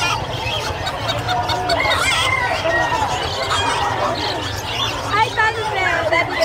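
Bantam chickens clucking and crowing at a busy pet and livestock market in Bocaue, close repeated clucks with a rooster's crow, heard over a steady murmur of crowd chatter and people talking.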